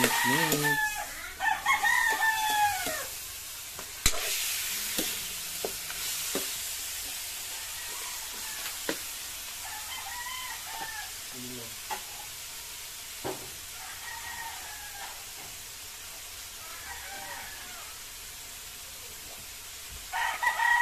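Chopped pork hock being stirred in a pan, with soft scraping and sizzling under a rooster crowing and clucking nearby and a few sharp clanks of the utensil.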